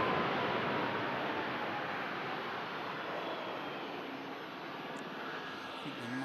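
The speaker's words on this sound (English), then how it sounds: "The Max 8200. That's the aircraft coming in from Berlin." A Boeing 737 MAX 8200 arriving from Berlin rolls along a rapid exit taxiway, heard as a distant, steady broadband jet roar that fades slightly over several seconds.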